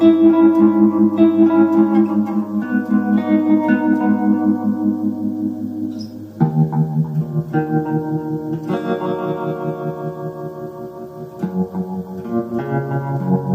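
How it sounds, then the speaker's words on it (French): Guitar notes played through a Vox amplifier ring out with a spacious stereo delay-like echo, each sustained phrase trailing off in repeats, loud and close with no talking. "Comme une stéréo delay en fait."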